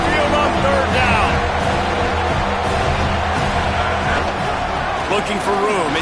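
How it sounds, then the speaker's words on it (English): Roaring Alabama Crimson Tide crowd fills a college football stadium on third down, a dense sustained rumble of thousands of voices with a play-by-play announcer talking over it. "The Tide crowd rolling noise down on the Saban field on third down."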